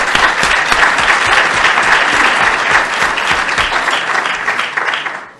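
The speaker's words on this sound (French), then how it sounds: "je vous demande un applaudissement pour lui" An audience at a national parks scientific meeting claps in sustained, loud, dense applause that holds steady and then tapers off at the end.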